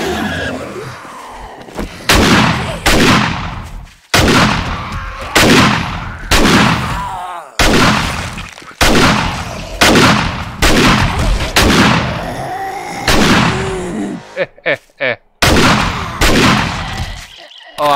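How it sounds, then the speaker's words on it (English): An auto shotgun fires in 7 Days to Die, Alpha 19. About nine heavy booming blasts come roughly every two seconds, loud and close, with short pauses between them. "Oh, I love this auto shotgun."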